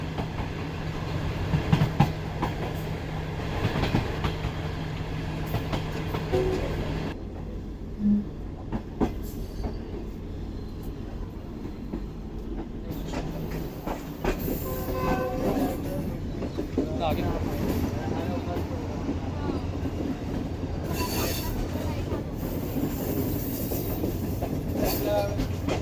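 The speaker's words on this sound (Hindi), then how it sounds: "ट्रेन हमारी अब कुछ ही देर में पहाड़ के ऊपर चढ़ने भी वाली है" Steady rumbling and clattering of a passenger train rolling on rails as it climbs toward the Kirthar mountain range in Pakistan. Wheel and carriage noise continues throughout, with occasional squeals and a voice talking over it.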